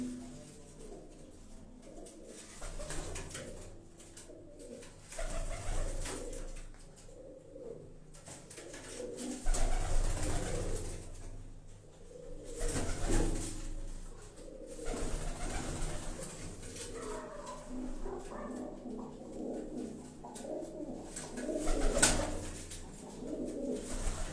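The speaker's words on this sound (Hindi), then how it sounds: "उन्होंने घर से प्रवासी कबूतर तुहानू दिखा रहे हैं जी।" Migratory pigeons kept at a home loft coo repeatedly in soft, overlapping rounds, several birds close by amid low background noise, continuous throughout with no speech.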